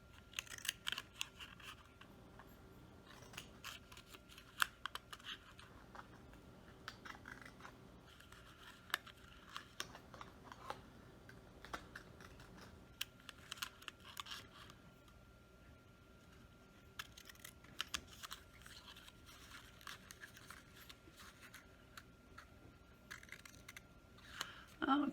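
Small scissors snip a row of slits around a paper Christmas tag, a long series of faint, irregular clicks and snips close by, running steadily with quiet room noise.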